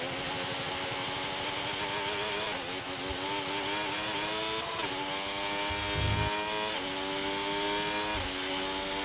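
Formula 1 car engine in the F1 25 racing game, running a 2026-season car on intermediate tyres at the Shanghai circuit: a loud, continuous high-pitched whine that climbs repeatedly in pitch through the gears, with brief dips at each shift.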